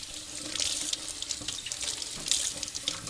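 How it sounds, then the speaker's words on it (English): Running tap water splashing steadily into a sink while a freshly processed quail is rinsed under it, a close, continuous hiss with irregular splashes and spatters, no talking. "I'm going to give it a rinse because I don't know what the feathers are really looking like right now"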